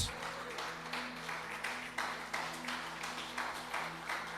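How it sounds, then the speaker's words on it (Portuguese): A church congregation claps faintly and rhythmically in a roomy hall, the even beats carrying over a low steady hum. "você pode aplaudir Jesus se você quiser"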